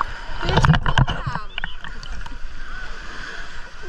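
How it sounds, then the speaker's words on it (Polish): An ocean wave surges onto a beach and washes over people, a loud rushing splash at the start that settles into churning water and wind, with voices briefly shouting over it. "Przyszła fala i nas zmyło."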